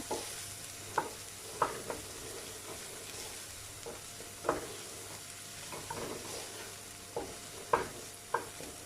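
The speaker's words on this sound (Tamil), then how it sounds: "இப்போ மசாலா கொஞ்சம் பச்சை வாசனை போகிற வரைக்கும் நல்லா மிக்ஸ் பண்ணி விட்டுக்கோங்க" Onion and masala are stirred in a frying pan for cauliflower chilli, with a soft continuous sizzle broken by repeated sharp scrapes and knocks of the spoon against the pan.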